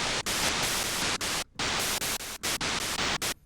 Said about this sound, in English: Now, cool thing with white noise, cut your attack,